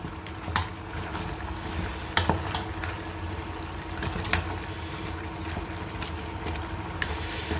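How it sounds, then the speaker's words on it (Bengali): Goat mutton frying hard in a pan over high heat, a steady close sizzle broken by sharp scraping clicks of stirring, with no talk. "মাংসটা ভাজা ভাজা হচ্ছে এবং চুলা কিন্তু আমরা এখন হাই হিটে দিয়ে রাখছি"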